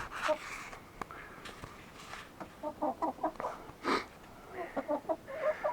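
Chanticleer chickens clucking close by in short, uneven bursts, soft murmuring calls repeating over a quiet background.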